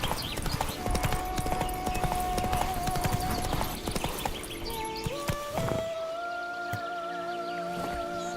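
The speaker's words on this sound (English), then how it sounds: "Actually, Roach is a female horse" A horse's hooves clip-clop at a steady gallop in The Witcher 3: Wild Hunt, a fast, continuous rhythm close by. Tonal game sounds and faint bird chirps ring out over it, and the hoofbeats ease off near the end.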